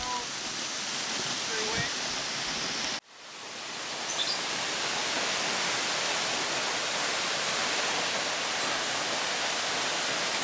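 Vanishing Falls, a waterfall reached by packraft through cold, wet scrub, gives off a loud, steady broadband roar that briefly drops out and then returns at full strength, with a short spoken remark over it.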